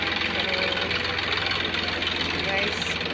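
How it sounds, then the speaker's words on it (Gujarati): A tractor loaded with wood rumbles with a steady, knocking engine drone at moderate distance, while someone talks over it. "લાકડા ભરીને ટ્રેક્ટર જાય છે"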